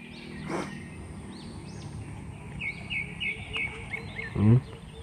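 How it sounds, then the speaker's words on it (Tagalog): Small birds chirp and sing outdoors in a rural yard beside a goat pen, with repeated short tweets and whistles at moderate distance. A brief louder knock or bump comes near the end. "Sarap ng huni ng ibon."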